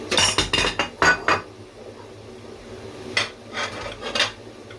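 Plates and cutlery handled at a home breakfast table, a quick flurry of clinks and scrapes of china and metal, then a few softer clatters after a pause, close by and without talk.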